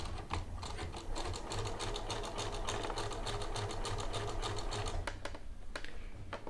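A sewing machine stitching bias binding onto a shirt collar, a continuous fast mechanical whirr and ticking at close range that slows and stops briefly near the end.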